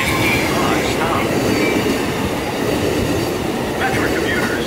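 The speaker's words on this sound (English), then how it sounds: "The next Metra train approaching your station will be a Metra Express train and will not stop." An Amtrak Hiawatha train passing through a Metra station, a loud, close, continuous rumble of wheels on rails with rhythmic clatter and some high squeal.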